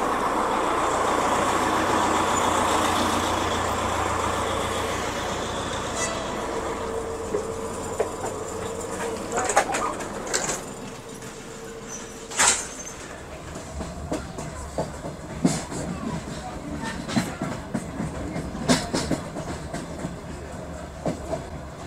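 Passenger train rolling toward Liepāja, a steady interior rumble with rhythmic clickety-clack of wheels over rail joints and occasional sharper knocks, continuous and fairly loud throughout.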